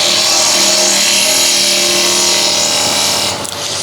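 A spindle gouge cuts into a wooden lid spinning on a lathe, producing a loud, steady high-pitched whine and hiss that continues evenly, with a brief dip near the end.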